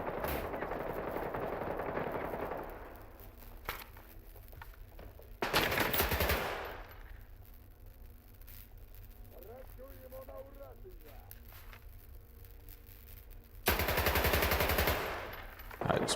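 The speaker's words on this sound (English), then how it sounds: "I just missed a lot of shots there" Gunfire in S.T.A.L.K.E.R. 2, two loud bursts of rapid automatic shots, one early and one near the end, separated by quieter stretches with a voice talking in between.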